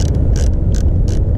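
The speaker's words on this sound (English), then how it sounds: "Negative terminal. Loosen that up so you don't get any airbag lights." A ratchet loosens the negative battery terminal on an Infiniti G37, sounding as four quick, close bursts of clicking over a low background rumble.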